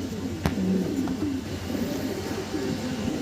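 Several pigeons coo close by inside a farm cage, with soft repeated throaty calls and a sharp knock early on.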